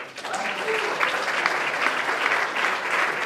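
Steady applause from a shooting-range audience at a youth rifle gold-medal match, greeting a perfect 10.9 shot by a Hungarian shooter; dense, even clapping carrying through the whole moment at moderate distance.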